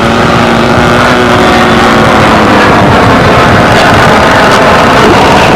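A model airplane engine at an RC pylon racing event throttles down on a windy day, a loud buzzing drone heard close and continuous without talk.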